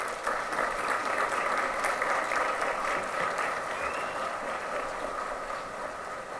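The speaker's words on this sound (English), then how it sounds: "Let's give a round of applause to the 2019 graduates" An audience applauding the 2019 graduates at a high school graduation ceremony, a broad sustained wash of clapping from a large crowd, steady and moderately loud, slowly easing off toward the end.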